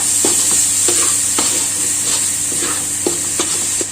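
A spatula stirs pork fried rice with vegetables and kangkong stems in a hot pan, sending repeated scraping strokes over a steady close sizzle.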